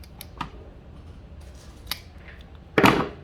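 Wire snipped for a trainer board: one sharp, bright cut near the end, with a couple of softer clicks earlier, close and otherwise quiet.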